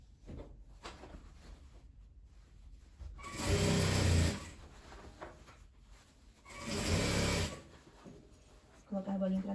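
A sewing machine stitches a patchwork bag made from old denim jeans in two loud bursts of a few seconds each, separated by quieter handling sounds, with a person talking in between.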